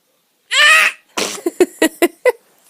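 A baby gives a long, loud squeaky sneeze followed by a string of short breathy sounds after a brief pause, close and clear with no other noise.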